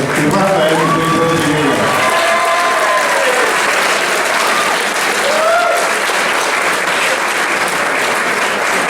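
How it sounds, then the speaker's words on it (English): Loud, sustained audience applause at a karting season awards evening, continuous clapping with some cheering and whoops, and voices calling out over it near the start. "we should all really give Christina and Ian a big, massive round of applause"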